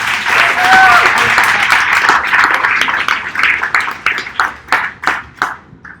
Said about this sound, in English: And then everyone can applaud